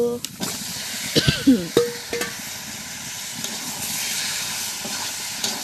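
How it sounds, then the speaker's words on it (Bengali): Chicken pieces hit fried spices in a hot pan, giving a steady hiss and sizzle with stirring clatters and scrapes, a few sharp utensil knocks early on, and no talking. "মশলা ভাজা হয়ে গেছে, এবার চিকেনটা দিয়ে দেব।"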